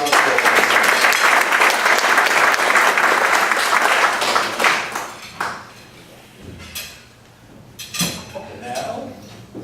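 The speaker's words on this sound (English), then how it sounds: "Round of applause for all our guests." Meeting attendees applaud their guests loudly and thickly for several seconds. The clapping then thins out to scattered claps as a voice resumes talking.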